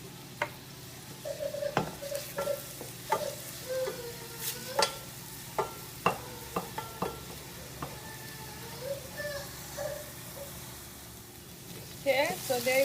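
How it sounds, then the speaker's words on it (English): Onion frying in a pan for a curry coconut shrimp dish, with a steady sizzle and irregular scraping stirs of a utensil against the pan, close and moderately loud, with some faint speech. "There's my onion starting to cook."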